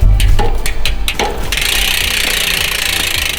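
A Tongsheng 750W mid-drive motor fitted to an e-bike runs under throttle, giving a steady close mechanical whir and hum with some knocking and rattling clicks at the start before settling into a continuous drone.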